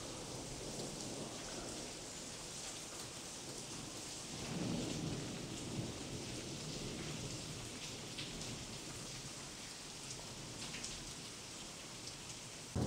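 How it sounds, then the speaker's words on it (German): Rain falls steadily in a forest while thunder rumbles low and distant, swelling briefly around the middle, with no talking heard. "wenn das donnert, das ist eine andere Geschichte. Rumst aber ganz schön."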